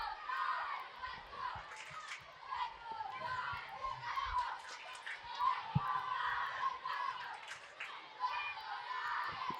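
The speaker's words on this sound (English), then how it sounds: "Kids are cheering him." Children shouting and cheering from the stands at an outdoor summer collegiate baseball game on a school-group day, a distant, continuous crowd noise with an announcer talking over it.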